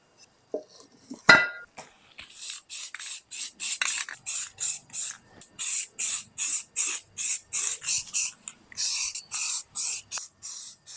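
Aerosol spray paint hisses onto the rear brake drums of a 1971 Toyota Celica TA22 in a regular series of short bursts, about fifteen close, even sprays with brief gaps, after a few clinks of handling at the start.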